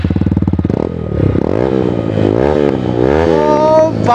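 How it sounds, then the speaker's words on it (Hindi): An Apache RTR 160 motorcycle fitted with an Akrapovic exhaust, DB killer removed, idles with a loud rapid thump, then revs up and down repeatedly, close and raw. "तो आप लोगों को थोड़ा देखे साउंड सुनाता हूँ कैसा लग रही है।"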